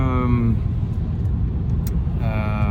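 A car's interior is heard while it is driven. A steady, loud, low road and engine rumble runs throughout, and a voice talks over it at the start and again near the end.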